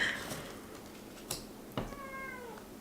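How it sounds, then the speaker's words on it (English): A pet cat meows a few times near the microphone in a quiet indoor room during a tarot card unboxing, with one drawn-out meow toward the end. "my cat Merlina wants to be a part of things, as usual"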